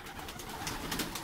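Pigeons coo softly and repeatedly, close by, against a steady rustling background with no voices.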